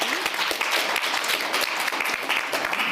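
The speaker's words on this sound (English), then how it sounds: "Please give a big round of applause." A conference audience at the World Economic Forum in Davos applauds a panelist being introduced, a dense, steady wash of many hands clapping at close range that fills the whole stretch without a break.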